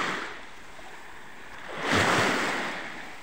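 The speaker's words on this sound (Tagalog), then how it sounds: "Ganda ng dagat." Sea waves wash onto a beach with a steady surf hiss that swells into one louder breaking surge near the middle before easing back, with some wind noise and no talk.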